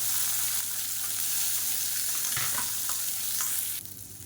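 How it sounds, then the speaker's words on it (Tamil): Chopped shallots hissing in hot oil with cumin, chillies and curry leaves while being stirred, a steady close sizzle broken by scraping stir strokes, easing off near the end. "இப்போ இதில் பொடியாக நறுக்குன சின்ன வெங்காயம் ஒரு கைப்பிடி சேர்த்துக்கலாம்"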